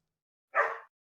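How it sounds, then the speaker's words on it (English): One short dog bark, fairly faint and somewhat distant, stands alone against near silence. "My dogs need to shut the hell up."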